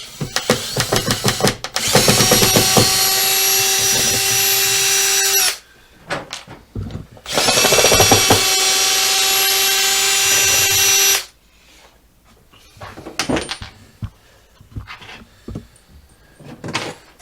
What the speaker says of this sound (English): Put our screwdriver bit back in and remove the two screws.